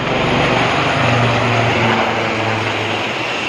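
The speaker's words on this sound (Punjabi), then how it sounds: "ਹੈਲੀਕਾਪਟਰ ਗਿਆ ਇੱਥੋਂ" Loud, continuous rotor and engine drone of a helicopter passing close overhead, steady throughout with a low throbbing hum.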